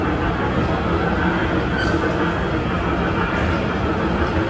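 Steady, loud broadband rumble of a train in motion heard from inside a carriage, continuous and even, with no talking.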